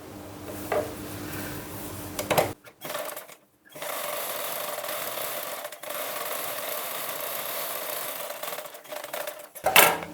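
A sewing machine stitches a seam on a blouse, steady mechanical whirring in short runs, broken by brief pauses, close and moderately loud.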